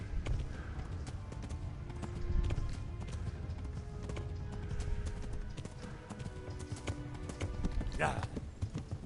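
Horse hooves pound in a quick, steady galloping rhythm that carries on throughout, with a person talking over it, in the video game Kingdom Come: Deliverance.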